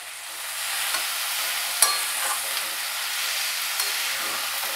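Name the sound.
bhetki fish sautéing with spices in a wok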